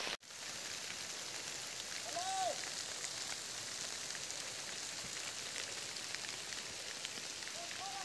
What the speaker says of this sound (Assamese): বৰষুণ দিলে আকৌ একদম তামাম বৰষুণ, ৰেইনকোট পিন্ধিবলগীয়া হৈছে